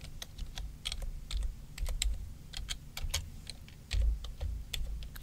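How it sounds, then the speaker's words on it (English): Soft, close typing on a computer keyboard while entering commands in the Windows CMD.exe command prompt: a continuous patter of quick, irregular key clicks in a quiet room, with no talking. "you can type help afterwards, or you can type"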